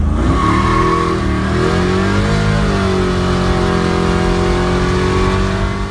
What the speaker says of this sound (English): This is going to be the very first nitrous hit that Austin and I did in the truck on the street coming up